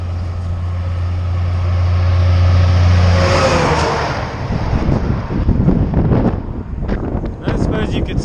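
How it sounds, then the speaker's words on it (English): A large oversized vehicle roars past on an outback road near Norseman, Western Australia, swelling and fading, followed by heavy wind buffeting against the microphone. "Look at this oversized vehicle."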